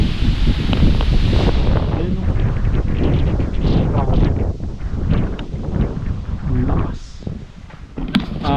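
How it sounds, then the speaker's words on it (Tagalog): Strong gusty wind from the edge of Typhoon Christine in the Philippines roars through swaying bamboo, with rustling and creaking stalks and a voice briefly heard amid the blustery noise. "Ang lakas ng hangin Yung mga kawayan oh"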